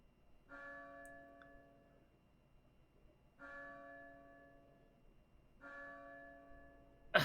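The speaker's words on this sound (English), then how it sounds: "The sound seemed like one of those old church bells they ring at European cathedrals." An old church bell tolls three slow, resonant strikes about three seconds apart, each ringing on and fading, faint and distant with no voices, ending in a brief sharp noise.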